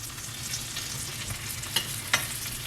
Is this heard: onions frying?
yes